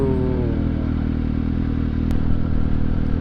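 Suzuki GSX-S750 motorcycle on a test ride, a steady loud engine drone mixed with rushing wind and road noise heard from the rider's position, with a brief clatter midway.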